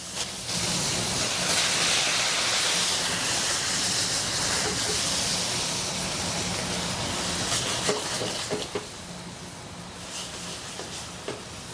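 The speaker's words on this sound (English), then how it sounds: "we're going to go ahead and steam open these clams" Clams steaming open in a covered pot with dry white wine and red chili flakes, a steady loud hiss and sizzle throughout with a few faint clinks near the end.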